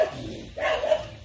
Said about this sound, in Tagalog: Kumakalo yung aso.